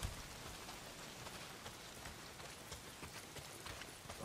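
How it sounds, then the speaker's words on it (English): Heavy rain pours in the open world of the game Days Gone, a dense, even hiss of drops hammering surfaces that stays steady and fairly quiet throughout with no voices. "Well, not if it's pissing down rain."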